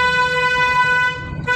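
A car horn sounds in one sustained loud honk lasting over a second during a driving lesson, close and clear before cutting off.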